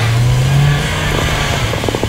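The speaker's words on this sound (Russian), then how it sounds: "приходится раскручивать мотор и до 5000 оборотов в минуту" Renault Duster engine revving hard toward 5000 rpm under acceleration, a steady loud low drone with a rising pitch and harmonics building toward the end, heard alone with no talking.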